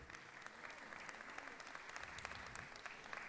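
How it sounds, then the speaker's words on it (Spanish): Steady applause fills a raffle prize draw, with many hands clapping at an even density throughout, fairly faint and distant, with no voices breaking through. "aplauso entonces"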